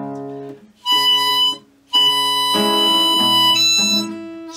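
Harmonica in E playing a tune: a couple of bright sustained blow notes with a brief pause between, then a longer held chord that fades out.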